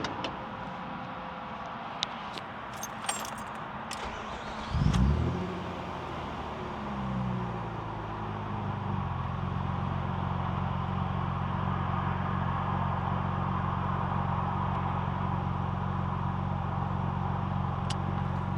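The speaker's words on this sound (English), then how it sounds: "So I'll leave the car running for a little bit, let it go up to temperature" A Mazda 323F V6 cranks and catches, its engine revving briefly before settling into a steady, low, humming idle that continues close by and unbroken, preceded by a few faint clicks.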